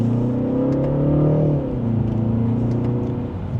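A 2025 BMW 330i xDrive in sport mode and second gear pulls forward under light throttle, its engine note rising steadily then settling into a smooth, continuous hum heard from inside the cabin.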